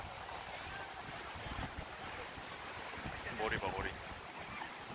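Waves striking and splashing around a small boat at sea on a windy evening, a steady rough wash with gusting wind noise across the microphone and a surge of spray near the end, while a person speaks briefly.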